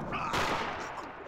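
Gunfire in Battlefield 1, a sudden loud burst of shots and blasts that thins into noisy rumbling, heard close up with faint voices underneath.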